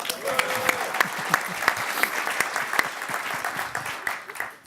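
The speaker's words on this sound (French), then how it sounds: "je pense que ça mérite des applaudissements" Audience applause at a malware security conference talk, scattered sharp claps forming an uneven patter, moderately loud with individual hands standing out.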